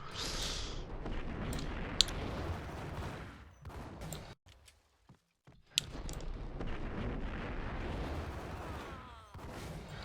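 Dense gunfire and explosions in the shooter game Max Payne: rapid bursts of shots and blasts, loud and continuous, broken by a brief near-silent pause before the firing resumes.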